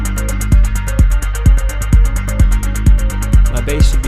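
Percussion loop in a house-to-techno production, run through autopan, filter and reverb effects, a steady four-on-the-floor kick thumping under dense hi-hat ticks with a washed, sweeping character, loud and continuous.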